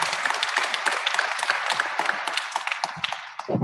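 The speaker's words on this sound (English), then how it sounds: "We can give her applause." Convention attendees at an ACB opening session applaud a first-time attendee, giving a crisp, lively round of many hands clapping close by that holds steady throughout.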